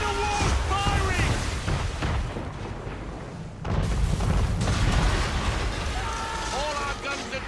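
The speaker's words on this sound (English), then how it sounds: "Men of war firing!" Warship cannons fire in a naval battle in Assassin's Creed 3, a dense run of booming blasts and rumbling impacts layered over music and shouting voices, with a brief dip in the middle before the barrage resumes.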